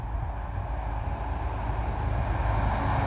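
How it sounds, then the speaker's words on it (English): Dump truck rolling past on a road, a steady loud low rumble that builds slightly over three seconds, heard up close beside a horse being acclimated to traffic. "hopefully some dump trucks will go by and make some noise and freak them out a little bit"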